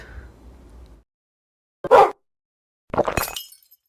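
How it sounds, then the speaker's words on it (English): In the Roblox Piggy game, a short harsh burst is followed by a crashing, tinkling shatter of breaking glass, both loud and isolated against near silence. "The player wakes up to the sound of a dog barking and broken glass."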